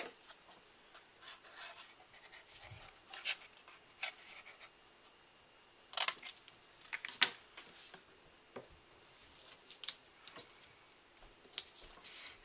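Paper trimmed by hand for a handmade mushroom card, heard as close, soft snipping and scratchy ticks in irregular bursts with quiet pauses between them.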